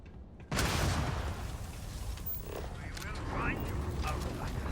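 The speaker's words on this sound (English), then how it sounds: "Did not mean to throw a grenade." A grenade explosion in the video game Starfield bursts suddenly after a quiet moment, followed by a lingering rumble and debris noise, with someone talking over it.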